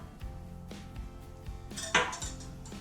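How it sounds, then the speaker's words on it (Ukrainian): Eggs cracked one after another into a small bowl that held marinated meat, giving a few light taps and knocks on the bowl's rim with a sharper clink near the end, close and quiet against a faint room hum. "вбиваю три яйця"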